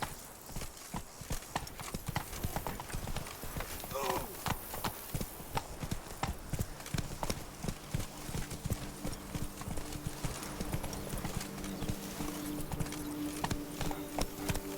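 Roach, a horse in The Witcher 3 Blood and Wine, gallops in a quick, steady, continuous clip-clop of hooves with loud hoofbeats throughout, plus a brief whinny, while voices speak intermittently over the running.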